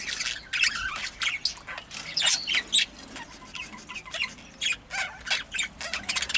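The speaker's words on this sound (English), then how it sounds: "pulls her feathers and warbles and squawks and carries on" A breeding hen squawks and warbles inside a breeding shed, harsh repeated calls in uneven bursts, fairly close and loud, with other bird chirps in the background and no talking.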